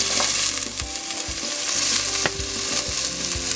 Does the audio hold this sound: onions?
yes